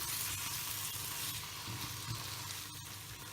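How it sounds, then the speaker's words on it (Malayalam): Chicken roast frying in hot oil in a pan, a steady close sizzle with faint stirring, no voices. "നമ്മൾ ചിക്കൻ നോക്കാം. എണ്ണയൊക്കെ നന്നായി തെളിഞ്ഞു വന്നിട്ടുണ്ട്."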